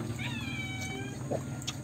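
A cat meows in a cooking setting, one drawn-out, wavering meow up close, followed by a brief second cry, over a constant low background hum.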